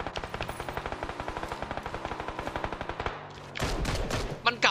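Automatic rifle fire in PUBG, a long, evenly spaced string of sharp shots lasting about three seconds, followed by a pause and then more distant scattered gunfire and other game noise.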